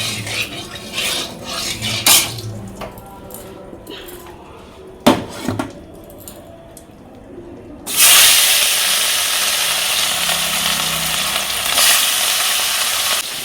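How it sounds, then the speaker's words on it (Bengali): Fish lowered into hot oil in a dry wok salted beforehand, a loud steady sizzle and hiss that bursts in partway through after quieter kitchen clatter and brief knocks. "চলো মাছটা ছেড়ে দিই"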